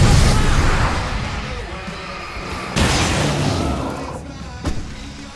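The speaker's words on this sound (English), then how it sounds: "I can set off fireworks from here!" Fireworks burst in the game Alan Wake Remastered: a loud boom that fades into a rumbling tail, followed by a second blast and a sharp crack near the end, with no talking.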